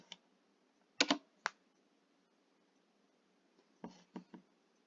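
Keys on a computer keyboard click in a few faint, close clusters of quick taps, with quiet pauses between the bursts and no speech.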